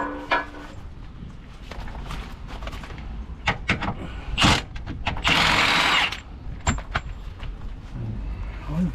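Ratchet and mechanical clicks while undoing subframe bolts under a 2010 Toyota iQ 1.0 in the rain, with intermittent clatter and a burst of louder rustling noise midway.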